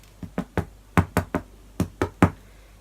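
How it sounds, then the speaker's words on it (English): The underside of a freshly baked tiger bread loaf is knocked by hand nine times in quick groups of three, each close, dull hollow thud sounding clearly with no talking. "you can hear that when knocking it, it rings hollow"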